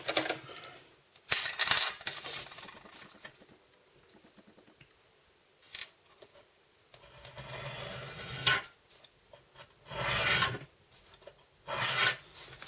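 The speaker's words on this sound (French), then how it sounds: "Donc il va falloir maintenant détourer l'ensemble en respectant les tracés qu'on a fait. J'y vais avec mon cutter." A utility knife cuts out parts of a cardboard box along traced lines, giving intermittent short rasping and scraping strokes separated by quiet pauses, close and alone.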